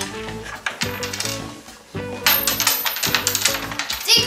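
Coins drop and jingle in quick metallic clatters, a dense cascade of bright clinks and rattles close by, arriving in several rapid bursts with no speech over them.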